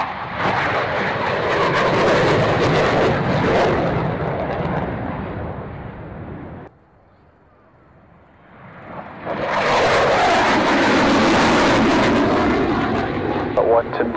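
Aircraft taking off for an air display: a loud, broad engine roar, then a brief lull and a second loud, sustained roar close by, with radio chatter alongside.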